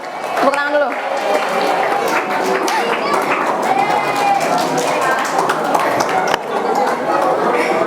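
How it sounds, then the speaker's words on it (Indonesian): A seated audience at a school kultum talk on social media claps in a steady, fairly loud wash, with voices cheering and talking over the clapping throughout. "Tepuk tangan dulu"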